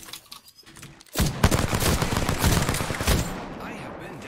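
Rapid automatic gunfire from a video game in Apex Legends crackles loudly in a dense burst lasting a few seconds, after a brief quieter lead-in.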